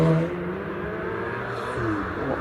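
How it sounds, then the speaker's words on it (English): A Porsche 911 Carrera GTS pulling away from the start line at the Prescott hillclimb, a steady engine drone with tonal whine that rises in pitch, heard from moderate distance without talk. "The Welsh driver gets away then in that 911."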